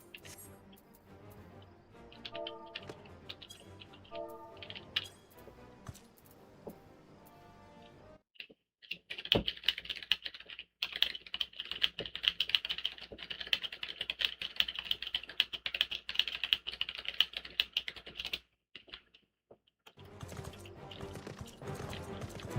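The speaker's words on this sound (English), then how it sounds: "I'm sure you guys enjoyed hearing the mechanical keys." Clacky typing on a mechanical keyboard during a Final Fantasy XIV gaming session, coming in irregular rapid bursts with short gaps and one longer pause, close and crisp, with faint background game music early on.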